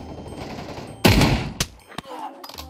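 Gunfire in the VR game Pavlov TTT: a loud, close shot cracks out, followed by a couple of quicker, sharper reports, with muffled background noise and brief movement sounds.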